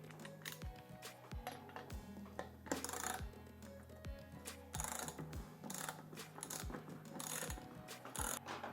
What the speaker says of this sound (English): And tighten the nut.